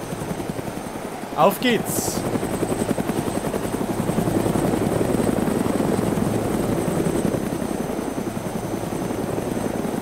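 Helicopter in the video game DayZ, a loud steady rotor drone with rhythmic chopping that holds throughout, briefly overlaid by a short spoken exclamation near the start.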